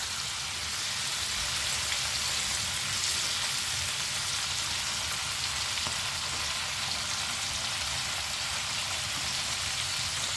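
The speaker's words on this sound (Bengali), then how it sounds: "দেখতে পাচ্ছ কি সুন্দর ফ্রাই হচ্ছে" Sweet corn deep frying in plenty of hot oil gives a continuous dense crackle and bubbling hiss, even and unbroken throughout, with no voices.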